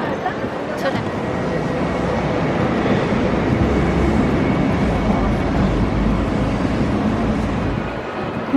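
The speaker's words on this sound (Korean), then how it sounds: "트램. 트램." A steady rumbling roar of a tram rolling past on rails on an Australian street at night, loud and continuous, with faint voices mixed into the street noise.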